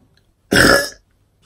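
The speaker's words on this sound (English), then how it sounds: "Can I burp?" A single loud, close burp lasting about half a second breaks an otherwise quiet moment, with nothing else heard around it.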